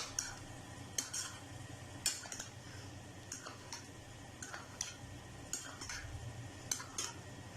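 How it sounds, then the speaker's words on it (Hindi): A spoon clinks and scrapes against a bowl while cooled, spiced mutton heart pieces are mixed with an egg, giving sharp, irregular taps over soft stirring, faint and close. "अच्छी तरह इसको मिक्स करेंगे।"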